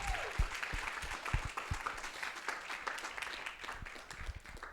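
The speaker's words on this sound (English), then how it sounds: "Let's just give them another round of applause before we move into questions" Audience members at a talks event applaud the speakers, a moderate round of clapping with a few louder individual claps near the start that gradually thins out.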